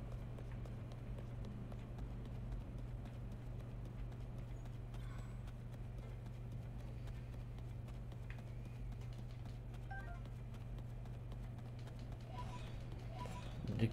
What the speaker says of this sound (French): Cavalier sur les chevaux squelettes.